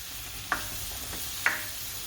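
Porcini mushrooms being stirred with garlic and butter in a pan for pasta: two quick, clear scrapes of a utensil roughly a second apart over a soft, steady background sizzle, with no talking.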